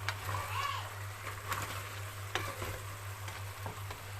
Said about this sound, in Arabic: هفضل اشوح فيها كده في الخضار ده شويه كده حلوين